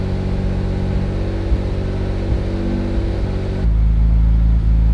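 A Mitsubishi 3000GT VR4's twin-turbo 6G72TT V6 idles steadily up close with a loud, even harmonic drone; the pitch shifts and deepens abruptly near the end as the idle changes, with no talking.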